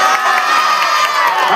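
A children's audience at an Ambedkar Jayanti drama event cheers and shouts together in a contest, a dense, steady wall of young voices that carries loud and unbroken all the way through.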